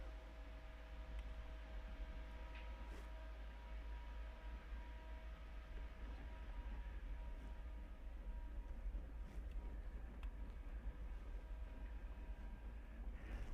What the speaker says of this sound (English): That noise you heard there is the cooling fan for the cooling system.